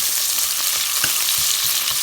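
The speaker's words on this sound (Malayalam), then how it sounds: "സവോള പെട്ടെന്ന് വഴറ്റി എടുക്കാൻ വേണ്ടിയിട്ട്, അതായത് കുറച്ച് ഉപ്പിട്ട് കൊടുക്കുകയാണെങ്കിൽ ആദ്യമേ തന്നെ ആയിക്കിട്ടും." Sliced onions with a pinch of salt sauté in a pan for a pork roast, giving a loud, continuous sizzle with soft scraping stirs and no voices.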